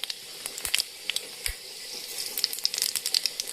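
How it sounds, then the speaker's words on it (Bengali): Panch phoron spices dropped into hot oil crackle and pop in scattered sharp bursts over a low hiss, close up and fairly quiet. "পাঁচ ফোড়ন দিয়ে দিলাম"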